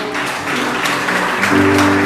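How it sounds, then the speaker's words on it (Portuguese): A church congregation applauds during a worship service, dense steady clapping filling the room over sustained music, with some voices mixed in. "Nós podemos aplaudir o Senhor"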